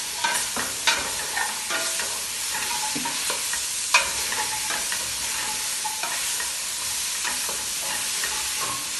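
Potatoes, raw plantain and pumpkin frying in a pan for kulai sadham, with a steady broadband sizzle and repeated scraping, clinking stirs, a couple of sharper knocks; no talking.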